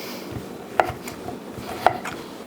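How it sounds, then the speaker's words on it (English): A knife chops leftover brisket on a cutting board with two distinct sharp thunks about a second apart, close and clear over a quiet background. "all I'm going to do with the brisket right now is cut it smaller pieces like this"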